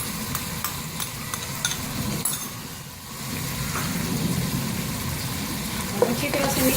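Salt and roasted pomegranate seeds stirred into a masala for pickled potato and brinjal, a continuous low sizzle with soft scraping stirs and occasional light ticks of a spoon on the pan, no talk.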